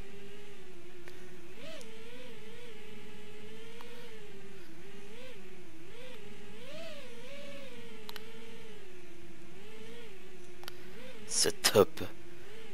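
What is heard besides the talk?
drone motors in the FPV simulator video game Rotor Rush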